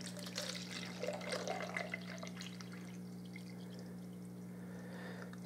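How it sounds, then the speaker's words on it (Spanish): Water poured into a bottle while mixing a citric acid solution for a homemade CO2 setup, a splashing, trickling pour heard close up over a steady low hum, easing off about halfway through. "vamos a agregar 600 mililitros de agua"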